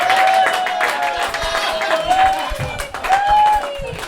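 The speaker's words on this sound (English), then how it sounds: "Please give a warm welcoming applause to Riot Fest crew member Funky Brewster." A live comedy show audience at a Lincoln Lodge anniversary gives applause and cheers, a crowded wash of clapping with whoops and voices, moderately loud and fairly close.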